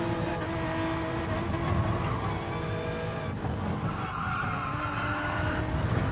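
A race car brakes hard and skids through a series of turns at Suzuka Circuit in Gran Turismo Sport, tires squealing continuously over a loud engine drone.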